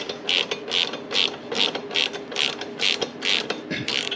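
A ratcheting wrench works a 12 mm bolt off a motorcycle exhaust bracket on a Kawasaki Vulcan Cobra, about nine even clicking bursts in a quick, regular rhythm, close and alone.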